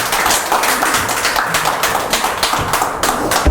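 An audience at an indoor study-group gathering breaks into loud, dense applause, many hands clapping close together in a fast, continuous patter.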